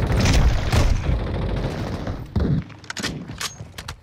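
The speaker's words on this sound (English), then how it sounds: "Taking effective fire!" Rapid bursts of gunfire from an MCX Rattler .300 Blackout rifle in Call of Duty Modern Warfare, loud and close, with dense repeated shots, a brief pause, then sharper scattered reports near the end.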